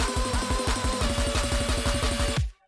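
Drum and bass remix at 172 BPM, with a loud, steady beat of punchy kicks, dense synth layers and a bright melodic line playing continuously before stopping abruptly near the end.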